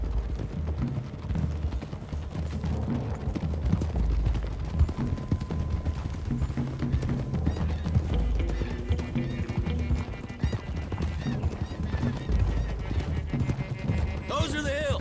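Rapid clip-clop of galloping horse hooves in Red Dead Redemption 2 runs throughout, with an occasional whinny and game background sound effects.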